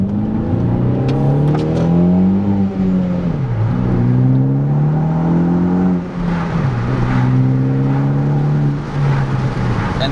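Turbocharged engine of a 2013 Hyundai Veloster Turbo revving repeatedly, pitch rising and falling in several loud, close sweeps with a steady throaty drone between pulls.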